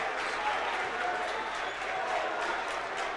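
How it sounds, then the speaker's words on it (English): Basketball crowd at a college conference tournament quarterfinal roaring with applause and cheers after a turnover, a dense, loud, sustained wash of clapping and shouting. "Crowd fired up after that one."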